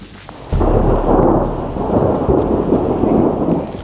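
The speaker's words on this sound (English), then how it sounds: "It's pouring." Heavy rain pours down with deep rolling thunder during a run in high-altitude Leadville, a loud steady downpour that starts abruptly and continues without a break.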